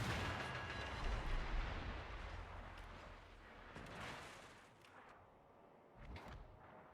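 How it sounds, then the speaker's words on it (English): Naval guns in a video game fire armor-piercing shell volleys, with several deep, rumbling booms that fade between shots. "SirHamer moves to AP shells, gets off a couple volleys"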